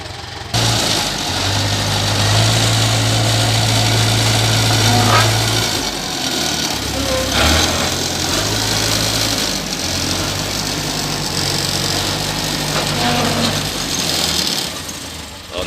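An old Komatsu road grader's diesel engine runs steadily at a low, throbbing idle, loud and close, with a constant rumble and slight shifts in tone throughout while working on a road.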